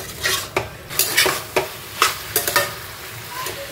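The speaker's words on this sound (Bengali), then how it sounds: "নেক্সট কাজ হচ্ছে এটাকে খুব ভালো করে মেশানো হাই ফ্লেমে।" Boiled chicken pieces stirred in a pan over high flame, a utensil scraping and clacking against the metal in irregular strokes over a soft sizzle, close and clear with no talking.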